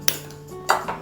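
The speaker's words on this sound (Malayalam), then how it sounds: "ചീനച്ചട്ടി വെച്ച് കൊടുക്കാം." A metal cheenachatti frying pan set down on a gas stove while making sambar, giving two or three short metallic clanks with a faint ringing ping, close and fairly quiet, with no talking.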